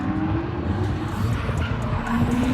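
An SC drift car with a 1J engine runs at a drift event on a speedway track, a loud sustained engine roar with tire noise throughout a brief, dense burst.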